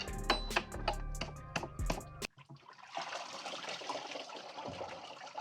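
Coolant drains from a Jaguar XJR engine as its water pump is removed. A few sharp ticks and clicks come first, then a soft, continuous splashing trickle of liquid runs close by.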